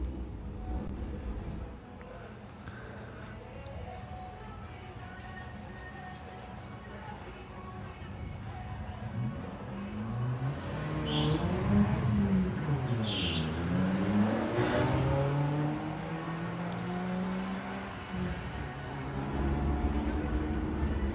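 An Audi and a Porsche drag race side by side up the strip at a Bug Jam qualifying round, engines rising in pitch together over roughly ten seconds. The revving grows louder before easing off, and a commentator talks over the run.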